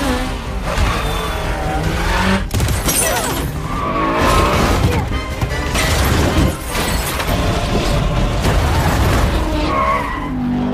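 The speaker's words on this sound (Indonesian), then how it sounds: "Dan mereka berdua kini berganti membawa mobil dengan tancap gas." During a chase scene in the Black Widow film, a car speeds with skidding tires, revving engine and crashes of shattering debris, loud and dense throughout, with a few voices faintly mixed in.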